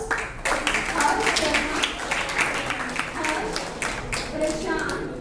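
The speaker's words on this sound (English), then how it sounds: "Please welcome them with a big round of applause." Audience clapping for 12th-class students after their song at a school event, a dense steady patter of many hands at moderate level with voices murmuring underneath.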